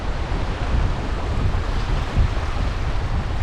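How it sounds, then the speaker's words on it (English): Wind sweeps across Two Medicine Lake in Glacier National Park on a chilly September day, a steady, full rushing roar with slight gusting swells and no voices. "It's a little chilly with the wind."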